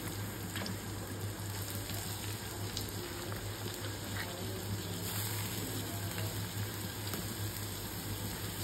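Onions sizzling in hot oil for a chicken wing curry, a continuous close crackling hiss with occasional stirring clicks, steady and without talk.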